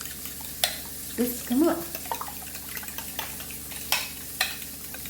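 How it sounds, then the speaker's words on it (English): Egg yolks and whites being whisked together in a bowl for a 1940s hard-times omelette, a close, quiet run of soft clicking and sloshing strokes with a brief spoken remark partway through. "Try and get the yolk and the whites thoroughly combined."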